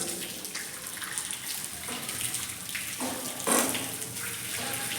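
Water running from a tap as students perform Islamic ablution (wudu), a steady hiss of flowing water with a louder splash midway, fairly quiet and without speech.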